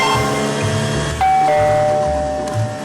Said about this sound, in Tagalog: Malakas na tumunog ang doorbell sa harap ng bahay.